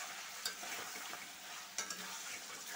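Meat curry in a pot is stirred over a steady bright sizzle, with a couple of sharp spoon scrapes and ticks standing out against the continuous frying hiss.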